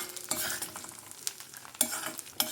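Tempering spices fry gently in oil over a low flame, a soft, quiet sizzle broken by a few sharp clinks and scrapes as a spoon stirs the pan.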